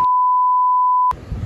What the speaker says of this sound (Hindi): ये भी बीप करना पड़ेगा